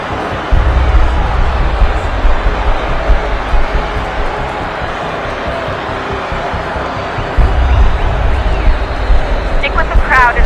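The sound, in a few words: crowd babble in the video game Assassin's Creed 3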